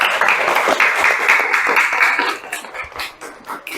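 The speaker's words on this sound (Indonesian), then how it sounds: "Ya, beri tepuk tangan buat kelompok" Students in a classroom applaud a group after its presentation, a dense burst of clapping that stays loud for a couple of seconds, then thins into scattered, fading claps.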